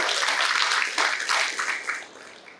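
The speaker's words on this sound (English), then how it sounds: "Let's give them a round of applause." Audience applause at an international conference on environmental sustainability, a broad rush of many hands clapping that swells briefly, then gradually thins and fades out.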